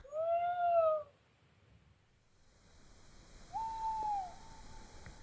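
An owl gives two hoots, a wavering tremulous call then a single drawn-out note later, in a quiet night setting in Sweden.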